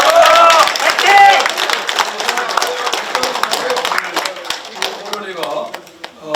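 An audience at a Democratic Party innovation policy forum in Gwangju claps in warm, sustained applause that gradually thins out, with some cheering voices and a speaker talking over it.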